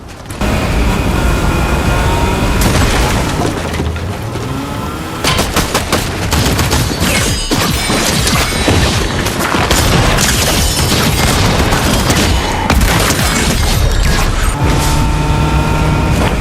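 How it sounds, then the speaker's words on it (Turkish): Sustained firefight in the Fortnite battle royale game, with rapid bursts of automatic gunfire, single shots and booming impacts crowding one another loudly and continuously, no talking. "Orada bir çatışma sesi aldım ben."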